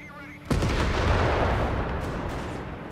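Small arms gunfire in the World War II strategy game Company of Heroes 3, a loud burst of rapid shots breaking in after a brief quiet moment and rattling on continuously with heavy booming reports.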